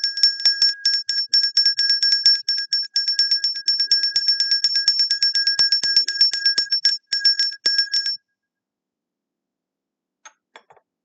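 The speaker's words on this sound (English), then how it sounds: "I'll ring the bell" A bicycle bell rung rapidly and repeatedly for about eight seconds in a steady, bright ringing pattern, then silence with a couple of faint taps near the end.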